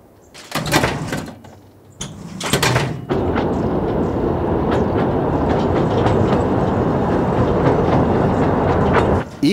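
A narrow-gauge train on the Gulbene–Alūksne railway line in Latvia gives loud, bursty clunks and door-like bangs at the start, then a steady rolling rattle with faint clicks that continues until an abrupt stop.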